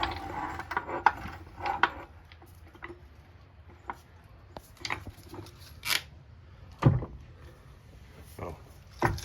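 Metallic ratcheting clicks from a car jack working under a 2009 Honda Accord, set up for a rear brake caliper job, come in short irregular bursts with scattered clanks, fairly close and moderately loud.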